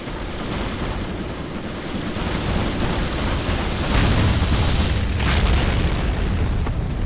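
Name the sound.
major airstrike explosions in Company of Heroes video game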